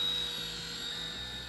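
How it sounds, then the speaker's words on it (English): A small 100-size RC helicopter flies nearby, its rotor and motor producing a steady high-pitched whine with a constant buzzing drone, fairly loud and unbroken. "These little 100 size helicopters."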